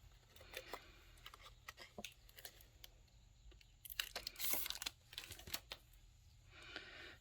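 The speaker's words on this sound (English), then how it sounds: "I'll peel the acetate off" Acetate film is peeled off a foam layer on a handmade Easter shaker cake topper, giving faint crinkling, a quick tearing rip and a few light handling clicks close by.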